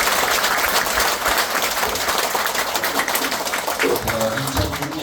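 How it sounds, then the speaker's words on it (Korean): A party members' meeting audience in an arts center breaks into loud, dense applause honoring the elder generation, sustained throughout with a voice speaking under it near the end. "여러분 박수 한번 보내주시기"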